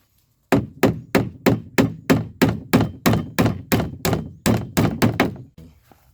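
Steady hammer blows on bamboo while building a ladder, about fifteen sharp knocks in an even rhythm, close and loud, then a brief pause and one last lighter tap.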